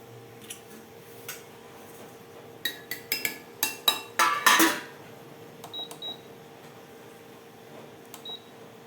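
A metal lid set down on a cooking pot: a quick run of sharp clinks and clatters, then a few lighter taps and a settling rattle in a quiet kitchen.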